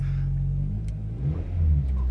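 A 2001 Honda Civic engine idles steadily nearby with a low, even rumble and a slight rise in revs toward the end, smooth with no ticks or rattles and no talk.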